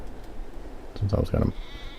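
Video game sheep bleating twice in quick succession, two short nasal calls standing out clearly over a quiet background, with a voice talking around them.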